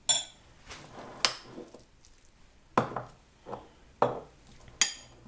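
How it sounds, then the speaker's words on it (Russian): Guacamole ingredients with dill are stirred in a bowl, a spoon giving a few scraping knocks and clinks at irregular intervals against soft mushy sounds, close up and without talking. "Теперь мы это все перемешаем."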